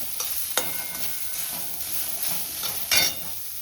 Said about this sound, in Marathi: फटाफट खोबरा वाजून घेऊया